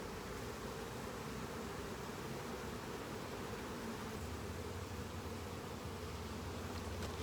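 Honeybees buzz steadily around an open hive, a dense, even drone with no pauses, heard fairly close and moderately quiet, with a faint low rumble joining partway and a brief click at the end.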